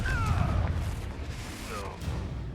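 Confringo blasting spell in the wizarding game Hogwarts Legacy, with a deep booming explosion followed by a second softer blast and low rumbling.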